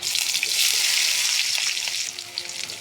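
Chopped onion dropped into hot oil with cumin seeds, bursting into a loud, dense, hissing sizzle that stays steady and then eases slightly near the end.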